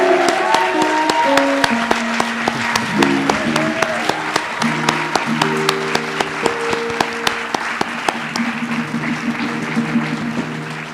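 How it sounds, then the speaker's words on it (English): An audience applauds at a university fall awards ceremony, a broad sustained round of clapping with a few sharp louder claps, while a tonal melody plays along underneath. "Please join me in a round of applause to congratulate Brenda for this well-deserved recognition."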